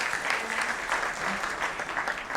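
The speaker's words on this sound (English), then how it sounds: "I think you owe everybody a good applause." Sustained applause from a conference audience at an international ports and shipping conference, a dense steady wash of many hands clapping for the full stretch without pause.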